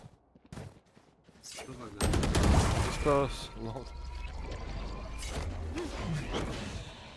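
Gunfire in the video game Valorant: a dense burst of rapid shots with mechanical weapon sounds and whooshes, loud and close, heard under someone talking.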